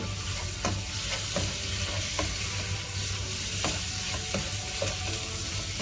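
Salted biryani masala is stirred in a pot, with a steady sizzle of frying and repeated scraping strokes of a spoon at a regular rhythm, close and fairly loud with no talking.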